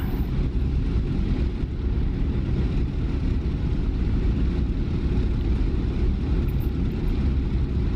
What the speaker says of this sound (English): Let's bring our prop RPM up.